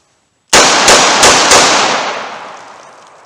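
.38 Special pocket revolver firing Winchester defensive ammo in four quick, loud shots at close range, the sharp reports spaced about a third of a second apart and trailing into a long fading echo.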